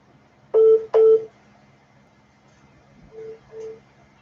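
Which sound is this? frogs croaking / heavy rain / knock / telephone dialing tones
telephone dialing tones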